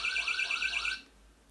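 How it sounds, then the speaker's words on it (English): A VALTRACK-V2 home security device sounds its burglar alarm, a loud, warbling electronic siren that wavers rapidly for about a second, then stops, leaving a faint hum. "Now I can disable the alarm by sending data value 1."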